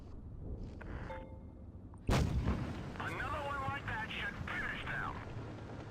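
A single heavy tank cannon shot booms out in World of Tanks Blitz while an M103 tank is played, a loud sudden blast with ricochet and engine noise around it, and a voice talks throughout.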